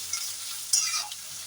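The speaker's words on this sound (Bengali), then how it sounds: "পেঁয়াজটা একটু নাড়াচাড়া করে নিচ্ছি" A utensil scrapes and stirs through onions frying in a pan, with a steady soft sizzle and a few louder scraping strokes.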